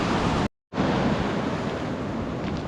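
Sea waves wash in at an Italian seafront, a loud, steady broad rush of surf with wind noise on the microphone, briefly cut to silence before resuming.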